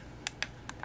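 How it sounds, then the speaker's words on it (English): Quiet keystrokes on the small built-in keyboard of a PocketCHIP handheld while a terminal command is typed: five sharp, close clicks spaced irregularly over a soft background, no voices. "now in the terminal we're going to go ahead and we're going to type in sudo"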